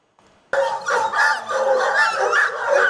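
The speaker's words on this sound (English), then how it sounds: "The two dogs, named Copper and Bones, are part of a 10-member trained pack of canines" Trained anti-poaching ranger dogs in a Rwandan national park bark loudly and continuously at close range, a dense run of overlapping barks that starts abruptly and holds steady with no talk.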